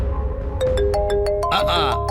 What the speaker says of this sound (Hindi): देखा, फोन भी बजने लगा।